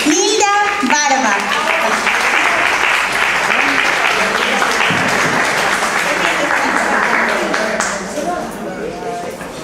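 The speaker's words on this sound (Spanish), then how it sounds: "les pido un aplauso muy grande para la señora, no saben quién, Nilda Barba" An audience at an evening book presentation breaks into loud, sustained applause for Nilda Barba, dense clapping from a full room with a few voices mixed in, easing off slightly near the end.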